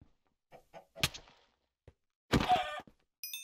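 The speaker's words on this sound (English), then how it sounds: "I can hear the chickens" A few short, scattered Minecraft chicken clucks come in separate bursts with quiet gaps and a soft thunk between them.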